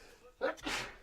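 A single sharp sneeze bursts out, followed by a breathy exhale, close and fairly loud against a quiet background.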